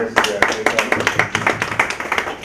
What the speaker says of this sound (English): So a big round of applause for all the speakers of the group.